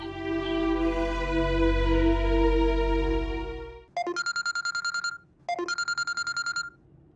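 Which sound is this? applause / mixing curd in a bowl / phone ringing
phone ringing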